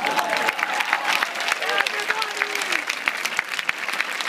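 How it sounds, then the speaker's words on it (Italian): An audience at a live concert breaks into a dense burst of applause, many hands clapping steadily and close, mixed with crowd voices and a few faint shouts throughout. "Un applauso alla memoria!"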